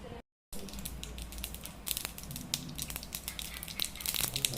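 Mustard seeds crackle and splutter in a ladle of hot oil for tempering coconut chutney, a dense, steady sizzle with scattered sharp pops close by.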